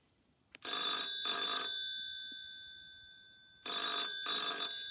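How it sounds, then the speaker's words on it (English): Old-fashioned landline telephone bell rings in two double bursts, each pair of clanging rings separated by a long ringing pause, loud and close with no talk. "When I've dialed the number, the lovely noise of the bell"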